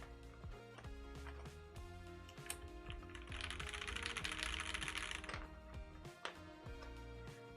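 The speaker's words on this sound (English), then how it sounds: "So I'm very impressed how this keyboard actually helps out on the sound of the keyboard." Typing on a Praxis keyboard fitted with Fierce Girls switches, a quick run of soft, close clacking keystrokes in an irregular rhythm, with a brief hissing wash partway through, fairly quiet overall.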